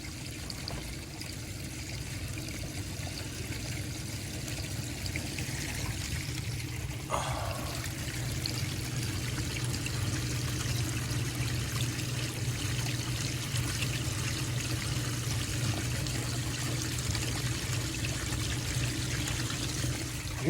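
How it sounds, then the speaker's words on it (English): Rinse water pumped out of a washing machine on its spin cycle pours steadily into a sewer drain, a constant splashing rush that stays level throughout with no voices. "that's the water going in and going into the sewer"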